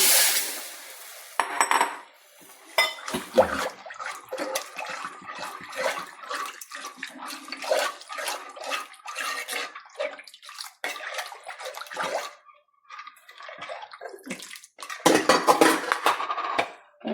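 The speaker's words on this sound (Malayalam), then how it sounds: "പുളിവെള്ളം അങ്ങോട്ട് ഒഴിക്കാം" Tamarind water pours and splashes into a metal pan of fish curry, with clinks of utensils and pot scraping mixed in, fairly close and steady.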